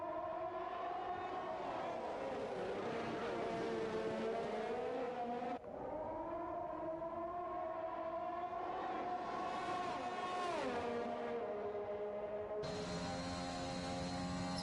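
Race cars in the F1 2021 video game on the final lap at Baku, engines screaming at high pitch with rising and falling revs and gear changes, loud and continuous, one car close behind another.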